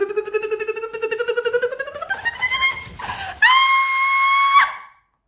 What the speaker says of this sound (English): God, I'm screaming.